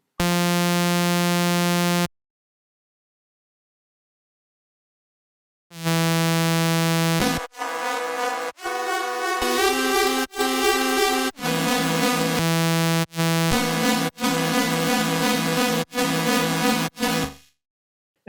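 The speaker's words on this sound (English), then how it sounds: "let's go ahead and try applying this plugin to the saw wave" Serum default saw wave synth processed by the MATTER granular delay plugin: a sustained buzzy harmonic tone, a two-second gap, then a run of rhythmic chopped bursts with shifting, shimmering harmonics, loud and close with no talking.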